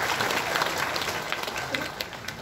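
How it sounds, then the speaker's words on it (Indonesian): Sustained audience applause at a Muhammadiyah Hajj gathering in Mecca, with many hands clapping evenly at moderate volume under faint scattered voices. "Kita berikan tepuk tangan sekali lagi untuk beliau"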